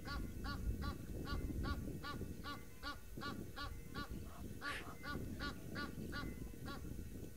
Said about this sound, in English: I think the Egyptian geese have the best calls